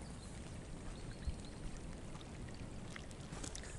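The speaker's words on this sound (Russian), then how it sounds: "Бежит вода вниз, в речку спускается." Steady broadband rush of meltwater flowing down into a stream in an early April forest in the Perm region, continuous and fairly quiet, with no voices.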